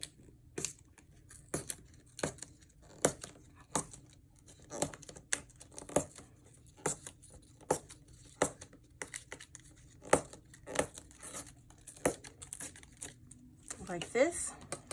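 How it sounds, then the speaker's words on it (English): Pages being torn from an altered book for a junk journal, a regular series of short ripping and crinkling bursts roughly every half second, close and fairly quiet, ending in a longer rustle. "You could use any tool you have to rip the page"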